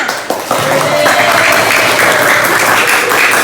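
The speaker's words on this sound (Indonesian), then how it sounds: "Kasih tepuk tangannya" Steady applause from a group fills the room, a sustained even wash of clapping with a faint voice underneath.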